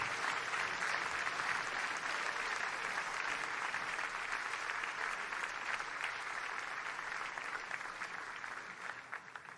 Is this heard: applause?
yes